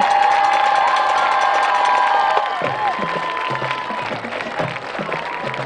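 A crowd cheers, whoops and claps for the LaVille Royal Regiment band at a varsity football game, a loud sustained roar of voices that eases slightly partway through but keeps going.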